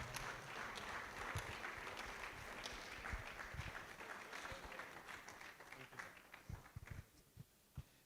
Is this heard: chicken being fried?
no